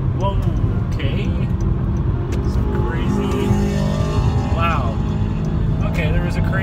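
A race car roars past on the road during a lane change, a loud steady engine drone heard from inside a moving car, with rising and falling tones from the passing vehicle.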